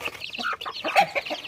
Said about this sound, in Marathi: ही आमच्या कोंबड्या आणि ही कोंबडीची पिल्ले